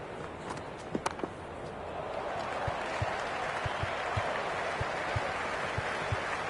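A cricket stadium crowd in the video game Cricket 26 during an IPL match between SRH and MI, a broad, steady roar that swells after the first seconds, with light claps and thuds on top.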